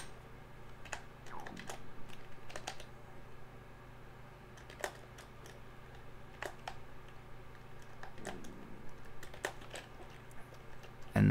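Quiet computer keyboard typing close by, bursts of light clicking keystrokes separated by short pauses over a steady low fan hum, no one speaking.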